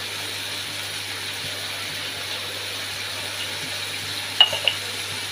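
Shrimp fry in a pan with a quiet, even hiss that holds steady throughout, with a couple of small clicks near the end.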